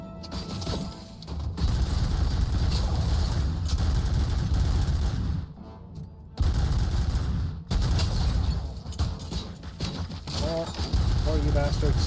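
Bursts of rapid gunfire from the video game Robocop: Rogue City, loud and sustained with short pauses, heavy low thuds under the shots, and a voice talking over parts of it.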